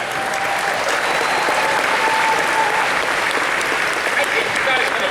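A large San Diego Comic Con 2019 audience at a Star Trek panel applauds loudly and continuously, a dense wash of clapping from a big hall with no break.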